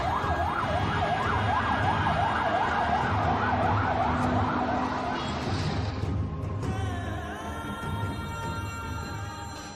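Ambulance siren sound effect from a radio drama, a loud wailing siren cycling steadily up and down over traffic rumble, then shifting to a different steady tone near the end.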